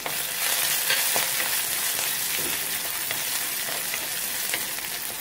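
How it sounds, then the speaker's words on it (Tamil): Onions sautéing in a pan for a kuzhambu, with chilli added, a loud, continuous close sizzle of frying with faint stirring scrapes throughout, no voices. "இதோட வெங்காயம் நல்லா வதங்கட்டும் பாருங்க"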